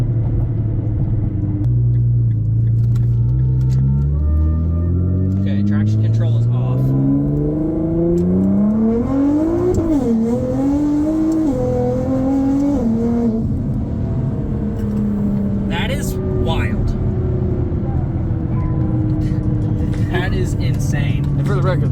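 A Nissan R35 GTR pulls hard with a loud, deep engine rumble that climbs through several rising sweeps, with quick upshifts cutting the revs short; people talk over it inside the cabin.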